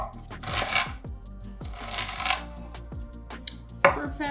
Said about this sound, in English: I'm just gonna kind of dice this up.